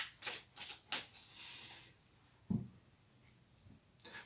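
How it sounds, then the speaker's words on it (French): Cards being shuffled and drawn for a reading, with a few soft, close riffles and flicks at the start followed by a faint tap and light handling in a quiet room. "Je vais tirer quelques cartes."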